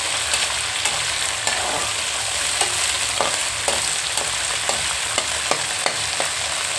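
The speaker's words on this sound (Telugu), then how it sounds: "దోరగా వేయించాలి. బాగా వేగాలండి." Onions fry in a hot pan with a constant loud sizzle, broken by regular scraping stirs from a spatula at close range, with no one talking.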